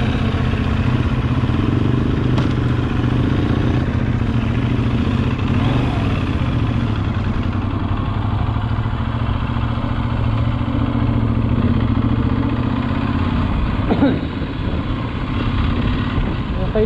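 A Benelli Leoncino 800 Trail, an 800cc motorcycle, runs steadily throughout with a loud, continuous engine drone, close to the rider, with wind rumble and faint voices mixed in.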